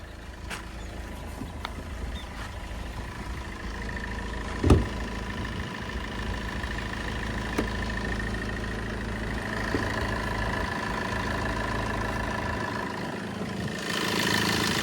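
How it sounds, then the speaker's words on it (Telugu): A car engine idling steadily with a low, even hum, close by, with a few faint clicks and knocks and no speech. "ఇంజన్ సౌండింగ్ బీటింగ్ మనకు లోపల తెలుస్తుంది మంచిగా నీట్గా ఉంది"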